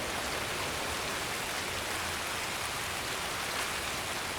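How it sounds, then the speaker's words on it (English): Heavy rain in the video game Escape from Tarkov, a dense steady hiss of downpour lasting throughout, fairly quiet and even, with no voices over it. "It's raining so hard."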